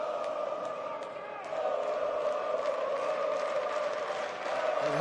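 A hometown crowd roars in support during a kickboxing fight between Bojan Kosednar and Aleksandar Jankovic in Slovenia, a steady sustained crowd noise under a commentator's voice.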